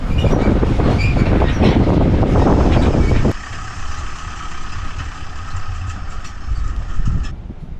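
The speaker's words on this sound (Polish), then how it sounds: "wrzucam Wam kadr, w którym pokazuję kolejeczkę, która zabierze Was zarówno na plażę" A small tourist road train carrying guests between a Hilton hotel in Marsa Alam and its private beach rumbles loudly nearby with engine drone and rattling, then drops to a steadier, quieter hum as it moves on.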